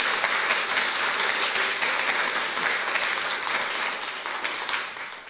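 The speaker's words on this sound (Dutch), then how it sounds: "Applaus." Warm applause from an evening audience welcoming schoolchildren at a civic education event, a dense, fairly loud wash of clapping that tapers slightly toward the end.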